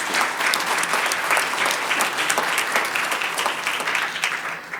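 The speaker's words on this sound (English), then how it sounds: "Let's give our students a round of applause" An audience at a business meeting applauds students with steady, dense clapping, fairly close and sustained throughout, with no talk over it.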